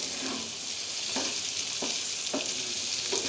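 Steady loud sizzling of tomatoes added to frying onions in a pan, with a few soft scraping stirs breaking through the continuous hiss.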